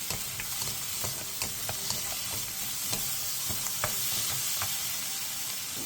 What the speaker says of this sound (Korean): 양파와 감자가 투명해질 때까지 2분에서 3분 정도 센 불에서 볶아주세요